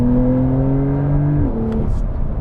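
A Porsche 911 Carrera with a 3-liter twin-turbo engine accelerates close by. A loud, steady engine drone rises in pitch and then drops at an upshift.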